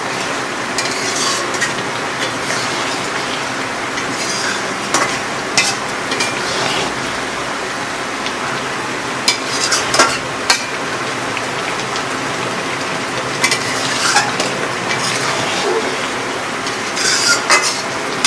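Himsagar mango juice cooking down in a pan for mango pickle, a steady rain-like bubbling sizzle with occasional stirring scrapes and knocks, moderately loud and without speech.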